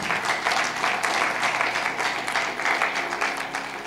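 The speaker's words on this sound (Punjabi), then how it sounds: "ਤਾਲੀ ਮਾਰੀਏ ਜ਼ੋਰ ਦੇ ਨਾਲ।" A congregation at a church sermon claps loudly and steadily, a dense, sustained roar of many hands that stays strong from start to end with no talking over it.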